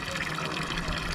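Water sloshing and splashing close by as a shirt is dipped and soaked, a brief busy wet rush with faint voice underneath.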